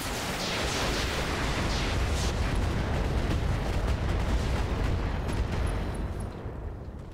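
Weapons fire and explosions from mech combat in a video game form a dense, continuous barrage of booms and bursts, loud and sustained throughout with no speech.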